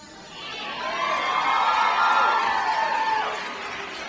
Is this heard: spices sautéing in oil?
no